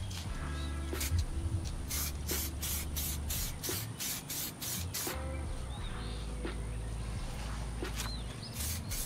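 A spray gun lays 2K clear coat on a Harley Sportster fuel tank in bursts of hissing spray with short pauses between passes, loud and close, while faint birds chirp in the background.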